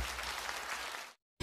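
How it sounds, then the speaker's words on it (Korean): Audience applause at a KBS Lunar New Year special trot musical, a dense wash of clapping that holds steady for about a second, then cuts off abruptly into silence. "박수가 나가야 됩니다."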